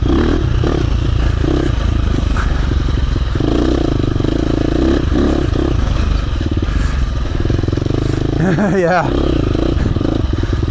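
A KTM 350 dirt bike on a woods ride, engine running close with a loud steady drone and a brief rising rev near the end, while someone talks over it.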